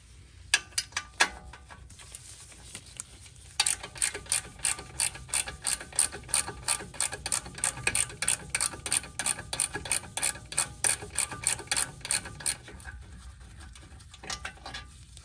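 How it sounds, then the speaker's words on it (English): A ratchet wrench turns the 18mm brake caliper bolts on a BMW 135i N55, a quick, steady run of close, crisp clicks that starts after a few short strokes and then stops. "you want to go ahead and remove the 2 18mm bolts for the brake caliper"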